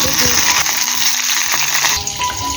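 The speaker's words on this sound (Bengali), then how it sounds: "শুকনো লঙ্কা কালো জিরে দিলাম এখন দিচ্ছি সাদা সর্ষে ফোড়ন আর কড়ার মধ্যে তেল দেওয়া" Dried chillies, nigella and white mustard seeds crackle and sizzle loudly in hot oil in a kadai, a continuous close-up frying hiss with faint stirring.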